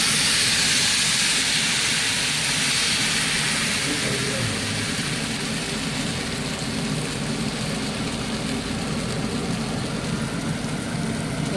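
Barnyard millet dosa batter sizzles steadily on a hot pan, a constant loud hiss that fills the whole stretch without a break.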